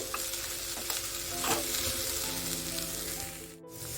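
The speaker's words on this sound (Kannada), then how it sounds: "ಇದು ಕೂಡ ಮಿಕ್ಸ್ ಮಾಡಿ ಫ್ರೈ ಮಾಡ್ಕೊಳ್ತಾರೆ ಒಂದು ನಿಮಿಷ ಫ್ರೈ ಮಾಡ್ಕೊಳ್ಳಿ" Chickpeas and tender greens frying and being stirred in a pan for a Karnataka-style bassaaru, with a steady broadband sizzle, occasional scraping strokes, and a brief dip near the end.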